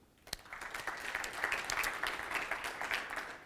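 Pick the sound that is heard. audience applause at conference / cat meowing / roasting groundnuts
audience applause at conference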